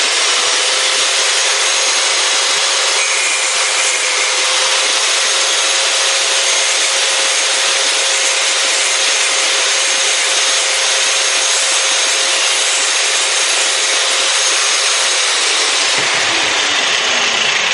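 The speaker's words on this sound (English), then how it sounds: "we're going to zip cut this hose clamp down first" A cut-off tool slices through a steel hose clamp during a chrome muffler install on a BSA 441 custom cafe motorcycle, a loud, steady, unbroken high-pitched grinding whine that runs nearly the whole time before tapering off at the end.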